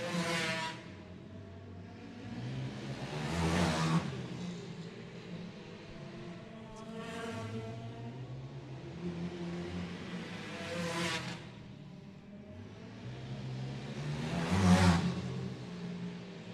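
Go-kart engine revving hard through corners on an indoor kart track, rising and falling in roughly four repeated surges as the kart is forced through each turn rather than drifting.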